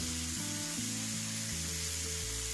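Coriander, red chili and turmeric powders frying in a pan for homemade sambar make a faint, continuous sizzle that runs alone and without a break over a low background hum.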